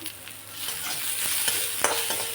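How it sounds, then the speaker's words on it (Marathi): Onion frying in oil for masala rice, stirred in a pan: a continuous close sizzle broken by several sharp scraping strokes of the spatula, the loudest right at the end. "कांदा चांगला लाल होऊन घेऊ"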